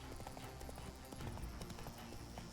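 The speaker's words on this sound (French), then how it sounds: "ça fait mal un cheval au galop" Horse hooves galloping in The Witcher 3 on Skellige, a steady rapid clip-clop close up over a dense game soundscape with no talking.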